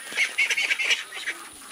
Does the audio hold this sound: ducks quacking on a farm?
yes